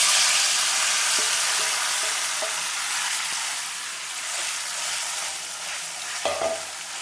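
Chicken pieces fry in hot oil in a pan, a loud steady sizzle running throughout with occasional scrapes and knocks from stirring.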